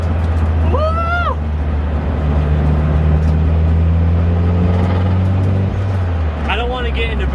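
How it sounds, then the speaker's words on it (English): Inside a moving Mitsubishi Evo, a low steady engine drone carries a rising whine as the turbo spools, while someone talks over the noise; a rising, whistling tone returns near the end. "I don't know if you can hear in the car. The turbo spool"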